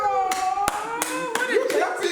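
Hands clap several times in a loose, uneven rhythm, each sharp crack close and clear, with casual talk and laughter around them.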